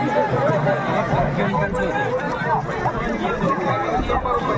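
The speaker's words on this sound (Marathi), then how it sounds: "रथ निघायला लागलाय, त्याच्यामुळं गर्दी खूप झाली आहे." A dense, loud crowd hubbub at a village temple fair (jatra) for Kalbhairavnath as a chariot procession sets off, with many overlapping voices close by and no pauses.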